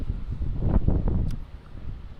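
Wind buffets an outdoor microphone in a steady low rumble, swelling and easing over a couple of seconds, loud and close with no voices over it.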